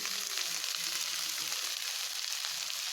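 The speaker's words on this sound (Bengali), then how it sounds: "এবার আমার যে ভেজে রাখা পটল ও গাজরগুলি ছিল সেগুলোকে আমি দিয়ে দেব" Fried pointed gourd and carrots go into a hot pan of oil, producing a steady, bright sizzle and crackle that holds evenly close up with no voices over it.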